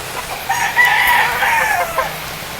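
Talisain roosters and gamefowl crowing in breeding condition, with overlapping loud, drawn-out cock-a-doodle-doo calls close by and a few short clucks mixed in, no talk.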